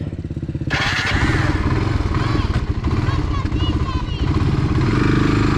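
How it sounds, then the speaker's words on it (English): A big four-wheeler ATV engine churns loudly and close while riding through deep water on a rainy day, with a steady throbbing drone, splashing, and bursts of revving as people shout over it. "I'm ready to get the big four-wheeler out. Get the deep stuff."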